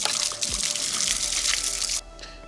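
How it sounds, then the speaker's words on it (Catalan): Water gushes loudly and steadily from a public village tap in Balsareny, a broad continuous splashing rush that cuts off abruptly near the end, leaving quieter background. "L'aigua surt de xorro gegant, però normaleta"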